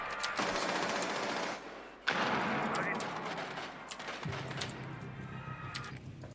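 Rapid automatic gunfire in a tactical shooter match, a dense rattling burst running loud and continuous for about two seconds, a short gap, then more sustained firing that thins into scattered shots and impacts.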